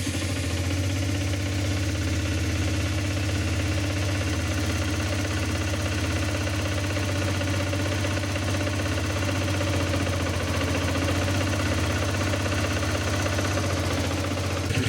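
A Honda CBR125R Repsol motorcycle engine idles just after starting, a steady, even low chug that holds without change and without talk.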